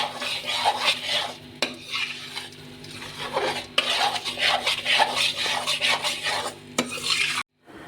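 A spoon stirs and scrapes steadily through maida halwa in a pan as sugar is mixed in, giving a continuous close, gritty scraping with occasional clinks against the metal under a faint sizzle.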